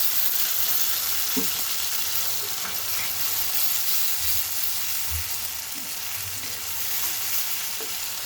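Chopped medium tomato hits a hot pan of salted onions for an Uttarakhand-style rajma, frying with a steady broadband sizzle and hiss throughout, plus occasional soft stirring knocks, close and alone with no talk.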